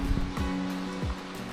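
Waves roll in along the Cornwall coast at dawn as a broad, steady rushing wash of surf with a few low thumps, heard alone without voices.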